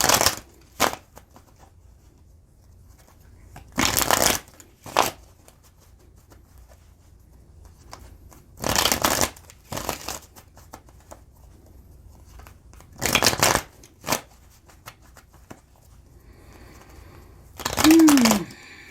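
Tarot cards being shuffled by hand in several short, crisp bursts separated by quiet pauses, close and clear, with a faint voice at the very end.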